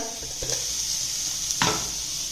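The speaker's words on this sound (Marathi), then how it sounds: "तर इथे आपले टोमॅटो यामध्ये चांगले भाजून तयार झालेला आहे" Tomatoes roasting with salt in a pan give a steady bright sizzle, with a couple of brief utensil scrapes and a clunk in the short stretch, no speech.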